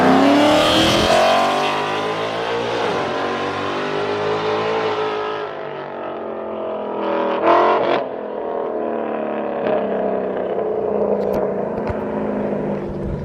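A loud Gen 3 Ford Mustang engine with an obnoxious aftermarket exhaust revs hard and close, its snarling roar holding high before easing into a steady aggressive idle broken by sharp blips of the throttle.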